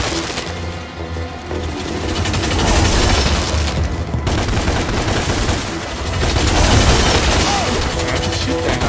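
Loud, continuous shooting in DMC Devil May Cry, rapid gunshots and booming blasts layered densely over a busy game soundtrack, relentless and close with no pause.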